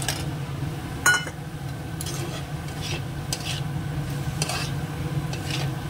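Pointed gourd (potol) cooks in oil in a pan with a low, steady sizzle, broken by occasional clinks and scrapes of a spoon stirring against the metal.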